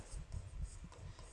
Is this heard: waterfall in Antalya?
no